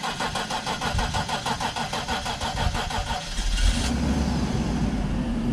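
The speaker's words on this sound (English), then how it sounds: "No way, the car just started." A Mercedes R129 roadster engine cranks with a rapid rhythmic churn after a fuel pump replacement, then catches and settles into a louder steady idle, close by.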